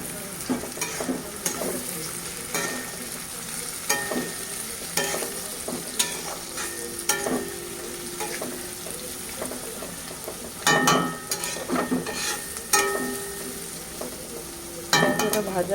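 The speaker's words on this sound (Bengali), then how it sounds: "সবজিটা ভাজা হয়ে এসছে, এবার আমি দিয়ে দেবো পেঁয়াজ আর লঙ্কা কুচি।" Vegetables fry with onion and chopped green chili in a pan, a soft continuous sizzle broken by frequent scraping and clattering of a spatula stirring, close and moderately loud, with no one speaking.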